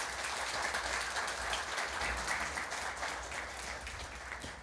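Steady applause from a crowd at a match, fairly distant and even, continuing throughout without a break.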